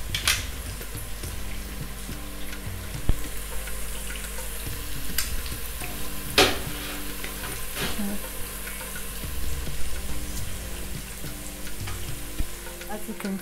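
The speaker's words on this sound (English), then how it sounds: "the garlic and ginger are burning away nicely" Garlic and ginger fry steadily in a pan for an egg bhuna curry, a continuous close sizzle with a few stirring scrapes and clinks and no talking.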